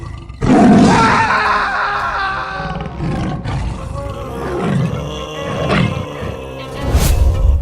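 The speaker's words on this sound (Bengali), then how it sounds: "বরেন্দা পালাও, এটা কোনো গরু নয়, এটা সাদা বাঘ।" A white tiger in a Sundarbans-set cartoon roars loudly and continuously, with a strong onset near the start and repeated rumbling swells and growls over several seconds.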